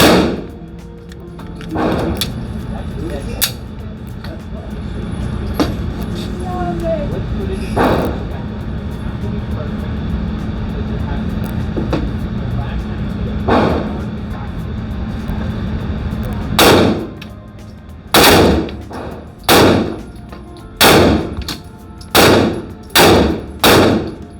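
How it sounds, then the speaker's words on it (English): Guns fire at an outdoor gun range, with scattered sharp shots early on and then a quick run of loud, evenly spaced shots toward the end, over steady background noise. "when you see a video of me at the gun range shooting guns like this"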